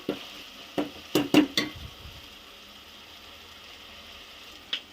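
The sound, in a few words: ginger garlic paste being fried and stirred in a pan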